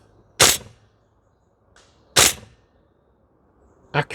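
A CYMA CGS MWS gas blowback airsoft rifle fires three sharp, loud single shots spaced about two seconds apart, each a crisp pop with a short tail, on an outdoor range.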